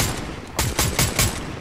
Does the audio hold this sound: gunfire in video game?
yes